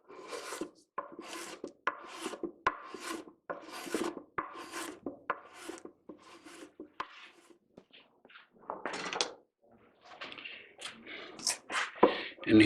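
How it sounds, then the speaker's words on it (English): A small homemade hand plane shaves a wooden mandolin fretboard level, giving a run of close, repeated rasping strokes in steady rhythm that thin into scattered scrapes toward the end. "I have a little homemade hand planer that I use to level all that stuff up."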